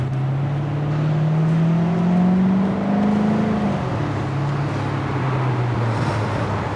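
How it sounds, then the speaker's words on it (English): A 2014 Corvette coupe engine hums low and steady in track mode, its pitch slowly rising then dropping as it revs, with a throaty open exhaust tone throughout and no talking. "it does open up the exhaust enough to give you that nice sound."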